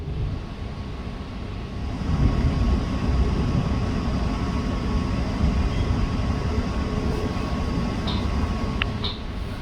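A Queensland Rail IMU160 electric train rolls into Roma Street station, heard from inside as a steady low rumble and hum of wheels on track, with a couple of faint high squeals near the end.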